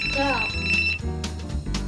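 A telephone rings in a home with trained rescue dogs, its electronic ringing tone sounding early and then cutting off while a voice speaks close by.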